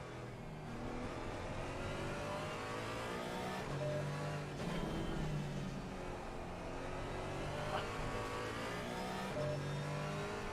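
Several Audi and Porsche cars in a race, engines revving and droning continuously at steady loudness, with a few brief tonal rises as they accelerate.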